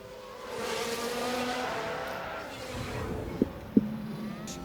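A Formula 1 car engine in the F1 Manager video game drones with tire noise at the Mexico race, then two sharp impact thuds ring out near the end as a car spins and crashes.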